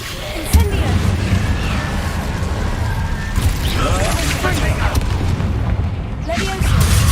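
Incendio fire spell cast in the Hogwarts Legacy video game, a loud dense roar with booming bursts over busy combat noise, continuous throughout.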